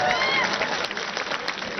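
Audience clapping at a yoga event in Birgunj, Nepal, a dense continuous patter of many hands held at steady loudness, with a voice carrying over the crowd.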